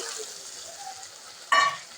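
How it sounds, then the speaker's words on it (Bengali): Spices and potatoes sizzle and fry in a pan as they are stirred, ending with a brief, sharper scrape and hiss. "মশলাটা কষিয়ে আলু দিয়ে আর একটু কষিয়ে নিচ্ছি"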